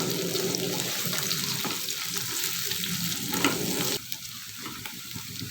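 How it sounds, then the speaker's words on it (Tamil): Sliced large onions, curry leaves and green chillies frying in hot oil for prawn biryani, a steady loud sizzle throughout with a few stirring scrapes, dropping somewhat quieter near the end; no one speaks. "பெரிய வெங்காயம் கட் பண்ணி வச்சுருக்கோம், சேர்த்துருவோம்."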